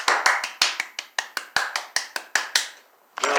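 One person clapping in honor of Chris Brown, a quick uneven run of about a dozen sharp, close claps, a short pause, then another clap begins.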